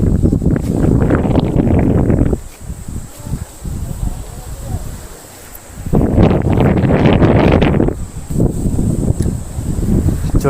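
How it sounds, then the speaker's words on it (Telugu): Strong, cold wind gusts across an open hilltop viewpoint at Bodakondamma, a steady broadband roar that rises and falls while someone talks loudly over it for much of the time. "గాలి అయితే చాలా కొడుతుంది"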